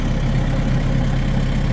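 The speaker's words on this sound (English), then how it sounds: "That's why I didn't shut the tractor off." A New Holland XR 4040 tractor engine idles nearby, a steady low diesel rumble that holds even and loud throughout with no speech.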